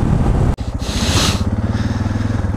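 A Suzuki DR650SE dual sport motorcycle idles close by with a steady, loud, throbbing pulse right after a sudden stop, following a brief dropout in the sound.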